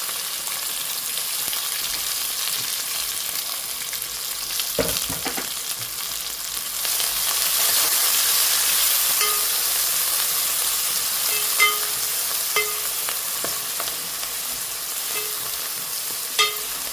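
Dried onion and green onion frying in a pan for a spicy Gujarati-style prawn curry, a constant sizzling hiss that swells as the onions go in, with occasional spoon clinks and stirs, close by and without speech.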